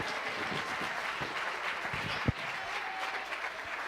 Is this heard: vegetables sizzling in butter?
no